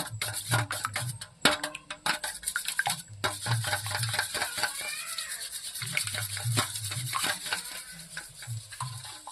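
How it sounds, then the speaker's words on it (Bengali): Eggs and salt are beaten in a bowl with quick, rhythmic scraping and tapping strokes that start and pause repeatedly. The stirring is close and moderately quiet, with a few clinks of the utensil against the bowl. "আমি একটু লবণ দিয়ে এটা গুলিয়ে নেব"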